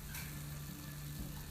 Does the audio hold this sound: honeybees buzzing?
no